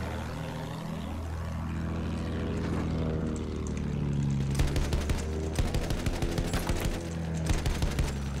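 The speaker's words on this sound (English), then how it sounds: "Oh, there's a plane?" A propeller plane from the Battlefield 1 video game drones steadily with a rising engine pitch, while bursts of machine-gun fire and explosions rattle in rapid, loud clusters through the second half.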